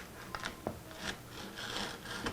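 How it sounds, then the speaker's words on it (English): Sandpaper wrapped around a wooden dowel rasps against wood while shaping a guitar setup neck cradle in a workshop, a quiet run of short scratchy strokes followed by steadier rubbing. "we're just going to use a dowel, stick some sandpaper on it, and use that as our"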